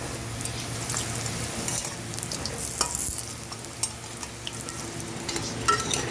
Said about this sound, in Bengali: কড়াইয়ে দিয়ে দিচ্ছি তেল, বড়াগুলো ভেজে নেব।